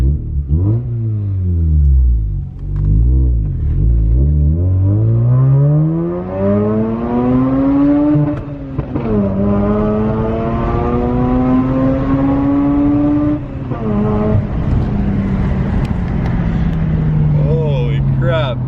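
The rotary engine of a rare R3 Mazda RX8 revs repeatedly, climbing in rising sweeps up to about 9,000 RPM and dropping between pulls, loud and close from inside the car.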